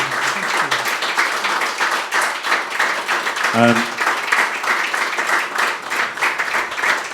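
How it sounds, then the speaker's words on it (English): Audience applause for a discussion panel on conflict and trauma, sustained steady clapping from a seated crowd throughout, with a brief voice murmur partway through. "I'd like you to be generous with your applause for our panel"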